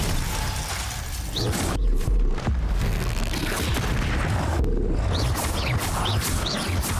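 Explosive Confringo spell blasts in a video game, a run of loud booming explosions one after another with crackling debris between them.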